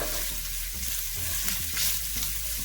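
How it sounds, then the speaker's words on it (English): Vegetables sautéing in a modest amount of oil for Haitian patty filling, a steady close sizzle with occasional stirring scrapes, no voices. "just saute everything"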